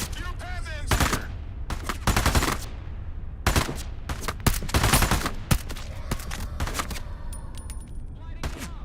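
Sharp, close gunshots and rapid bursts in the video game Into the Radius 2, scattered volleys with brief gaps and a faint voice now and then between shots.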